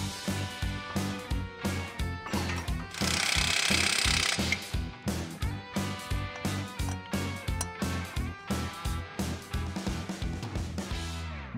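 A hand tool swaps the lower strut bolt for a grade 8 bolt on a Panther race car suspension, giving a long run of regular, close mechanical clicks and knocks with a brief dense burst midway.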